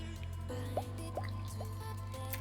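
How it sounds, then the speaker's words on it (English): Running water while utensils and vegetables are washed at a kitchen sink, with a steady low flow and a few distinct drips and splashes spaced through it, close and fairly quiet. "I find washing the utensils a very mindful practice."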